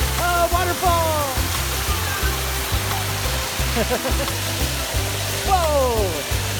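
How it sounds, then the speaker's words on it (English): A water park waterfall pours in a continuous loud rushing roar, with excited voices and children's chatter breaking in over the splashing flow. "Oh, waterfall!"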